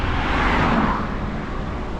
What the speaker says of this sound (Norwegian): En annen bil kommer jo